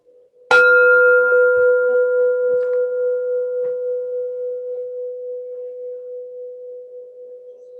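A single bell struck at a grandmothers' gathering in a circle, one clear ring with a long, steady, slowly fading sustain, close and otherwise quiet apart from a few faint small bumps.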